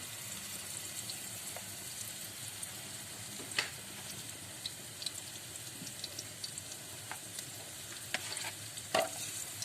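Ground egusi mixed with onions and dry crayfish fries in oil for egusi soup, giving a faint, steady sizzle with occasional stirring clicks and scrapes throughout.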